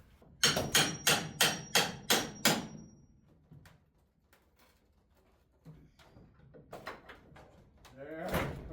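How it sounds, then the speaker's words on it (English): Small nails being hammered on a farm, with six quick, evenly spaced metallic strikes up front, then scattered fainter knocks and handling noises and a few quieter taps near the end. "No, I need a hammer to get it started."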